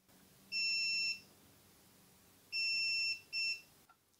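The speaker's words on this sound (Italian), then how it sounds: "se invece teniamo il grilletto premuto fino a quando emette il secondo beep" A KEBTEK KTE-35 21V cordless pruning shear gives three electronic beeps, two longer tones and a short one, clear and close in a quiet room.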